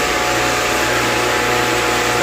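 Dairy milking pipeline vacuum system running, a loud, constant close whine and whoosh of the pump with a steady hum underneath and no talk.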